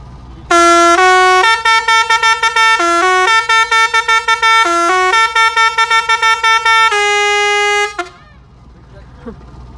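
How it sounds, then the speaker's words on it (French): A loud, musical car horn plays a rapid sequence of tuned honks in a melody, close by, lasting several seconds before cutting off into quiet. "Faire un petit coup de klaxon pour les enfants."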